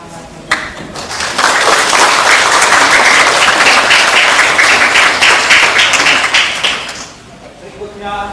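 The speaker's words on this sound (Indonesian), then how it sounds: "kita beri tepuk tangan dan semangat" At an installation ceremony for a church community group, an audience breaks into loud, full applause after a sharp first clap, sustaining dense clapping for about six seconds before it dies away.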